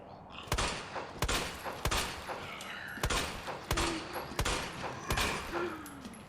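Sharp gunshots from a shooter-style video game fire one at a time in an uneven sequence of about nine loud, close reports, each with a short decaying tail.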